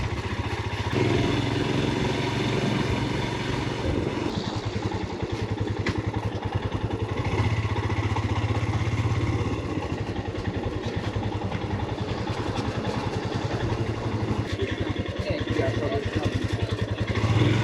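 A motorcycle engine drones steadily throughout, with wind rush and road clatter, riding at a constant pace without pauses through Tuscany, Italy.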